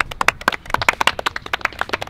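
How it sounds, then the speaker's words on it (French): A small group of football players applaud themselves after a match, a brief burst of sharp, uneven handclaps close by, quick and scattered rather than in unison. "On s'applaudit."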